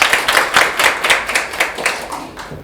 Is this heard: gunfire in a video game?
no